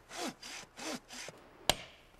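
A bow saw cutting through timber on a forest trail, four rhythmic rasping strokes followed by a sharp crack as the wood gives, close and clear with no talk.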